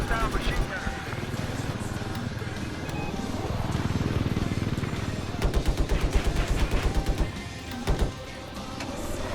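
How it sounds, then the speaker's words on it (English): Machine gun fire in the Siege of Shanghai video game, with rapid bursts of close, loud shots over a dense rumble of engine and battle noise, the firing growing more rapid and distinct toward the end. "It looks like there's a hostile machine gunner."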